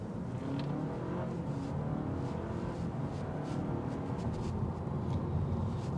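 A 2025 Honda Civic Hybrid cruises on a test drive, its steady low road and engine hum filling the cabin evenly throughout, no voices.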